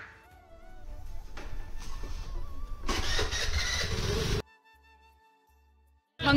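Motorbike engine starting on a crowded street, a broad rumbling roar building and holding steady for several seconds before cutting off abruptly, then a quiet gap and a brief loud burst at the end.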